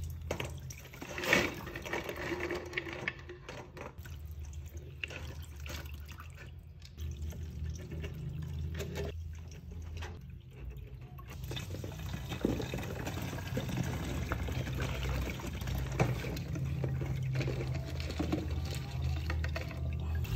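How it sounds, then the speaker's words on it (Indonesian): Soaking liquid drains off a red belly pacu fish skeleton being prepared for articulation, a faint, steady trickle with small drips running quietly throughout. "Kita akan mulai tiriskan"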